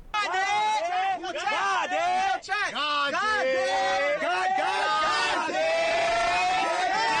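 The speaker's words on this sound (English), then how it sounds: "The park has been swarmed and basically overrun by people." Huge crowd overrunning Union Square Park in New York City, loud chanting and cheering from many voices at once, a close, roaring swell of shouts that holds throughout.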